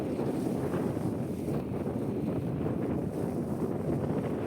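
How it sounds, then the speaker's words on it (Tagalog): Strong wind buffets the microphone in a continuous low roar with gusty surges, loud and close throughout, with no voices heard. "Lakas ng hangin."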